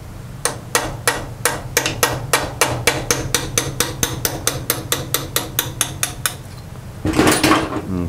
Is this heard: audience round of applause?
no